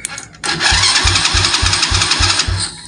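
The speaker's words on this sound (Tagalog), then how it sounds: "Narinig nyo nag-crank yung makina." A motorcycle engine is cranked by its electric starter in a repeating chug and then catches, running loudly and steadily close by after a brief quiet moment at the start.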